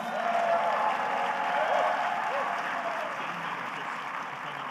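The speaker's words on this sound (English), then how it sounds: "They all certainly deserve all of your applause and recognition" Steady audience applause for city commissioners at a mayor's State of the City address, a broad wash of clapping heard at moderate distance, with faint voices carrying through the crowd.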